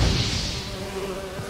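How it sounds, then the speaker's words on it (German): Buzzing of bees in The Witcher 3 video game, a steady droning hum under constant game ambience that holds for the whole moment, no speech over it. "Dämliche Bienen."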